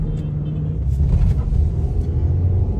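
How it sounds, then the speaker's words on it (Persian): A Chery Tiggo 5 SUV accelerates, its engine giving a steady, loud low-pitched rumble heard from inside the cabin that builds slightly midway. Someone talks over the engine noise. "میبینید صدای موتور رو میشنوید چه حجم زیادی داره گاز میخوره"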